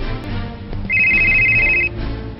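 A telephone rings with an incoming call: a steady electronic ringtone tone lasting about a second, loud and close, over faint background music and room noise.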